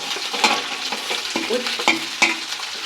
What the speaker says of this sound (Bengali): এবার এটাকে একটু ফ্রাই করে নেব